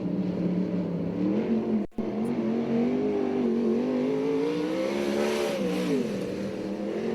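A USAC/CRA sprint car runs a qualifying lap on the dirt track at Alger, Washington. The engine drones steadily and loud, its pitch rising and falling through the corners, with one brief dropout early on and no talk over it.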